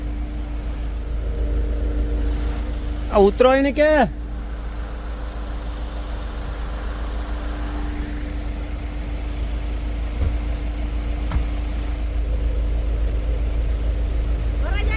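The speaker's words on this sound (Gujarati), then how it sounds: "જો ભાઈ વાહનની લાઈન થઈ ગઈ" A line of cars and trucks idling during a village wedding procession, a steady low engine rumble throughout, with a brief burst of voices early on and faint background activity.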